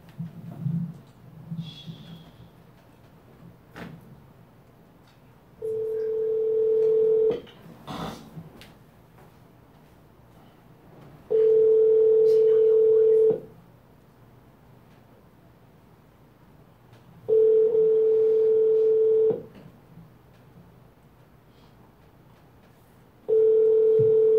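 A telephone sounding during a prank call: a long ringback pattern of repeated loud steady tones, each lasting about two seconds with gaps between, preceded by faint handling noise and a few clicks.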